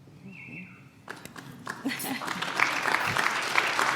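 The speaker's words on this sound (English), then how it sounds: "so everybody always applauds" Applause from an audience swells after a quiet start, a dense clatter of clapping that grows louder and continues steadily to the end.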